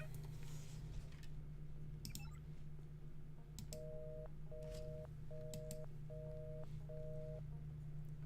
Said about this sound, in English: Wasn't the phone call ringing?